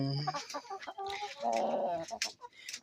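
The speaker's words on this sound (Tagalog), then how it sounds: "Yan ang rooster ko." A rooster clucks and calls nearby in a short run of throaty, warbling vocalizations, fairly quiet, with no talking.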